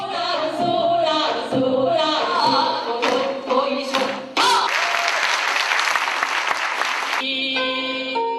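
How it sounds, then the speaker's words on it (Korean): An audience applauds after a performance of the Japanese folk song Soran Bushi, first over lingering music and drum hits, then as a dense, loud, sustained burst of clapping that fades into tonal music near the end. "일본 민요 소란부시를 부르자 터져나오는 관객들의 박수갈채"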